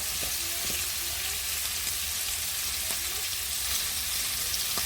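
Garlic and mixed vegetables sizzle in a frying pan as the pieces are turned, a steady bright hiss with scattered soft pops and scraping clicks of stirring, close and even, without speech.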